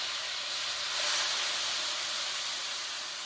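Boiling water poured into a very hot pot of browned chicken pieces for a stew, giving a steady loud hiss that swells briefly and then holds.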